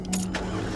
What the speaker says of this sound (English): I gotta go and start the car up in order to charge the phone.